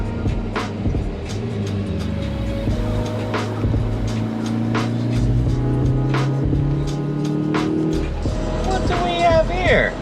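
Hyundai Veloster N car engine driving on the road, a steady close drone with shifting engine pitch and some clicks, under occasional talk.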